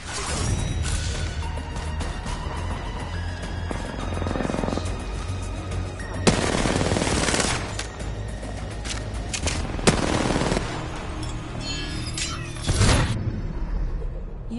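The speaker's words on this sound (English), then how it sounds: "I'm taking fire." Apex Legends gunfire, with loud repeated bursts of rapid automatic shots and several sharp single cracks over a constant background rumble of in-game battle noise.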